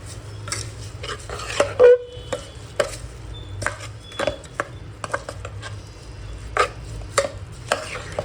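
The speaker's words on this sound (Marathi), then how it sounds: "चांगलं असं परतून घ्यायचे तांदूळ" Rice stirred and fried in a pot for mutton pulao: intermittent scraping and clinks of a spoon against metal, close and irregular, over a low steady background.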